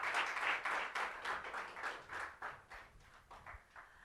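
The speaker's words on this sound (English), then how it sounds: "And can we have a big round of applause" Audience applause for the panelists closing a technical session on climate resilience and adaptation for low-income women: a faint, steady patter of many hands clapping, with no voices over it.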